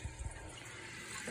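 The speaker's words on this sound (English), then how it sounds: "There's the water coming into the tank." Water rushes steadily into a toilet tank after a flush during a repair, a continuous close hissing fill with a low gurgle at the start, no voices.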